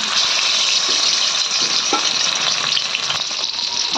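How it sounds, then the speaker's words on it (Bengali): Fish pieces frying in hot mustard oil in a kadai make a loud, dense, close sizzle that holds steady, with a few soft bubbling pops. "এদিকে আমার কড়াইয়ের তেলটাও গরম হয়ে গেছে আর তার মধ্যে আমি দেখো এই মাছগুলো একটা একটা করে দিয়ে দেবো"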